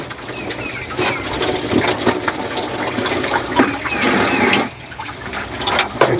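Water drains out of a failed water pump on a Ford F600 truck. A loud, continuous gushing splash runs throughout, dipping briefly before it surges again.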